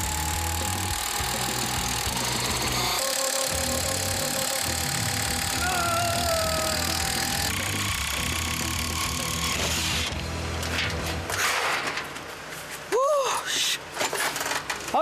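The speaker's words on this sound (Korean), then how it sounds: "전동 드릴로 지어집니다." An electric drill works on a modular hanok under construction, a loud, continuous mechanical whir with rising and falling pitch sweeps and clattering bursts of building noise.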